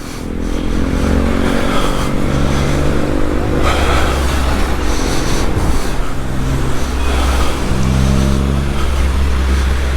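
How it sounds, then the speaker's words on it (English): Loud, continuous road traffic in the Philippines on a bike ride from Naga to CWC: engines of cars and motorcycles drone and rev close by with no breaks. "There's still quite a bit of traffic, but not as much as now"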